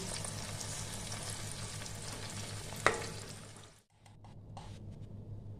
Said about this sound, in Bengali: মাখিয়ে রেখেছি এবার আমি তেলে দিয়ে দেবো